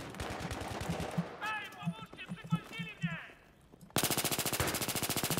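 Rapid automatic gunfire from a strongly kicking weapon in Battlefield 3, with bursts under a man's speech and then a loud, steady stream of close shots at the end.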